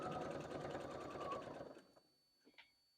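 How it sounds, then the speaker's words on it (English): A sewing machine runs steadily, stitching a seam on a small quilted project bag, then stops partway through, leaving near silence and a couple of faint clicks. "Now I am just using the edge of my presser foot as my seam allowance guide."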